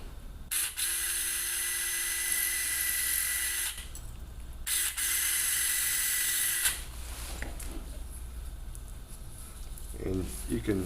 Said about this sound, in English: Now we're going to drill for the tine placement with a 3/5 drill bit.